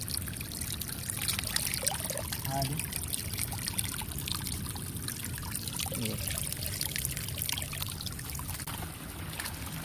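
Clean water trickling at a small monsoon waterfall, a constant close splashing rush throughout, with people talking faintly over it.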